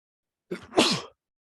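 A single person sneezes once on a Zoom call, a short indrawn breath followed by a sharp, loud burst, heard clearly against silence.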